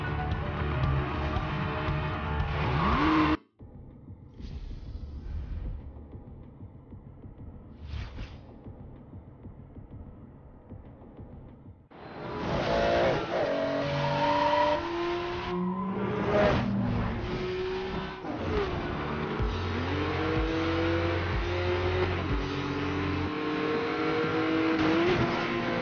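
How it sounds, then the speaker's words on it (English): Car engine revving hard with wheelspin in Need for Speed Most Wanted, loud and continuous, rising and falling in pitch through repeated throttle blips, with a brief drop near the start and a quieter stretch before full revving resumes. "To start the race, pull up to the checkpoint and spin your wheels."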